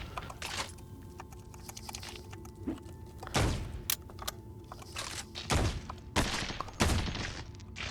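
Gunfire from the player's blaster in the roguelike game Caves of Qud comes as several quiet, sharp bursts spread unevenly across a soft background.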